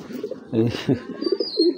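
Two pairs of active racing pigeons, lightly moulting, coo in soft throaty bursts, with a louder rounded call midway, mixed with faint voices in the background.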